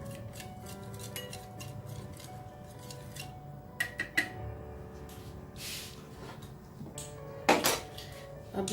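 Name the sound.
mixing fresh cream into chicken marinade in a bowl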